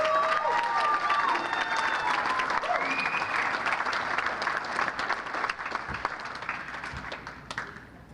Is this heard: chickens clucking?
no